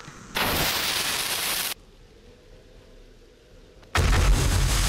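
An auto shotgun firing in 7 Days to Die, Alpha 19, heard as two long, loud, dense bursts of blasting separated by a quieter lull.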